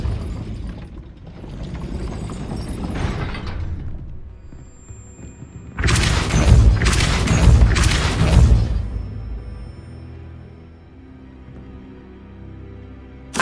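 In Hogwarts Legacy, a cast Depulso spell gives off a loud burst of crashing, clattering impacts lasting a couple of seconds, rising out of quieter ambient game sound and fading into a low hum.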